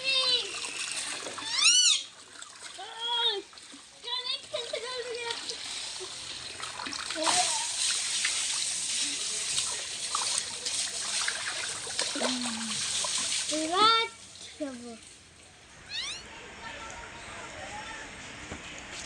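Water splashes and trickles as a child is bathed at home, in intermittent bursts and pours, with people talking and children's voices over the water.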